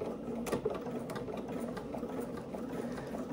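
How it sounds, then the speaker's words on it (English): Close and fairly quiet, a sewing machine runs steadily along a seam of Vinton pants, its fast even stitching holding without a break. "Okay, so we're going to start sewing."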